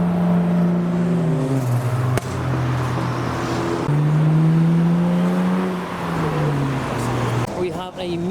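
A white Toyota Chaser pulls into a Japanese car meet, its engine humming in a steady low drone that rises and falls as it arrives, close and fairly loud, with people talking over it.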